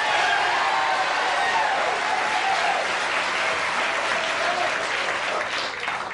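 A studio audience at a late-night comedy show claps in steady, dense applause for a full six seconds, loud and sustained with a slight fade at the end.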